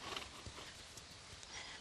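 A horse walking on the ground during a groundwork training session near a round pen, hooves giving soft, steady clip-clop steps close by with no talk over them.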